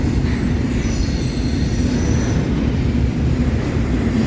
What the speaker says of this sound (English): that NS train's going quite slow